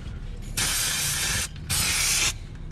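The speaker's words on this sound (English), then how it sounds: "we have to take this with some brake cleaner just to make sure that we don't have any grease on there" Two bursts of aerosol brake cleaner sprayed onto brake parts while lowering an 89-95 Toyota pickup, each a steady close hiss lasting about a second with a short pause between them.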